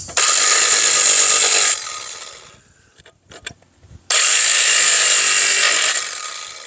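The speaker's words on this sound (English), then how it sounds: "So I'm going to shear the carter pin on the top and the bottom." Cotter pins on a Honda Dream being sheared with a pistol-grip cutter, giving two loud, sustained gritty grinding bursts separated by a short pause with a few faint clicks and rattles.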